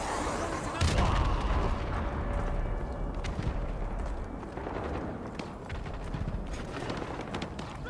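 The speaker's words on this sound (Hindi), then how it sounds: "मुंह के आगे बम फूट रहे हैं" Explosions and battle noise in a Call of Duty Modern Warfare 2 campaign, a heavy blast near the start followed by continuous rumbling, crackling gunfire and debris at moderate loudness.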